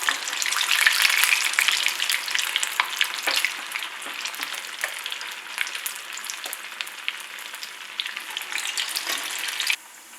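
Vada batter fries in hot oil for Mahalaya Amavasya cooking, a close, dense sizzle and crackle that is loudest at first and then settles into a softer, steady bubbling hiss with scattered pops.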